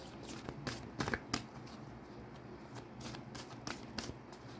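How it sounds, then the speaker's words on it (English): Tarot cards shuffled by hand in a steady series of soft riffling bursts, close and fairly quiet, with no one talking. "I am going to pull an extra card for this."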